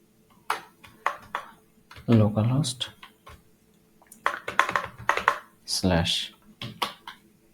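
Quick clicking keystrokes on a computer keyboard come in short bursts between and under a person talking nearby.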